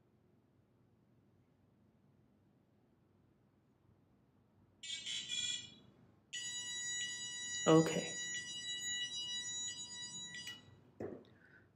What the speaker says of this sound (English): The beeping just indicates that the battery is not connected.